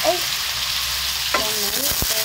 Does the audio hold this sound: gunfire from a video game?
no